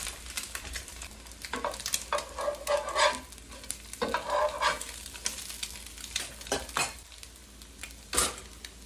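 Eggs fry over easy in a pan on a stovetop whose burner has been switched off, a light sizzle under repeated clinks and scrapes of a utensil against the pan, with no talking.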